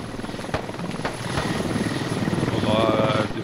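A helicopter in the Squad military game drones loudly with a steady rotor thrum, building slightly in intensity, with brief clicks and a faint voice mixed in.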